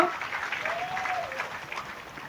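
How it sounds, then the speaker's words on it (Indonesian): An audience claps at an evening Islamic sermon gathering in Muntilan, Magelang, a steady, fairly soft patter of applause lasting a couple of seconds, with a faint voice rising briefly through the middle. "Tepuk tangan sik ora apa-apa."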